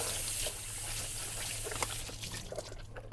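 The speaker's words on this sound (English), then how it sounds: "Rinse it well with water." Water runs steadily over a HoMedics ultrasonic humidifier part as it is rinsed, giving a close, continuous trickle and splash that eases into lighter, uneven dribbling.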